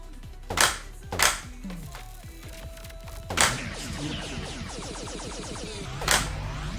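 Game gunfire in the arcade shooter Neon Requiem: four sharp, separate shots spaced a few seconds apart, each a crisp snappy crack over a busy layer of synthetic electronic effects and chirping tones.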